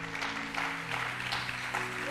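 A church congregation claps steadily to acclaim the Lord, a dense wash of applause mixed with a soft background hum of music.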